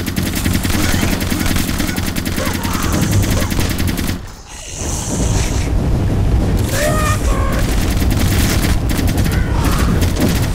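Loud, continuous video game gunfire with booming shots and rumbling action sounds in a shooter match with a railgun's alternate fire, dipping briefly around the middle before the din resumes, with a voice occasionally audible underneath.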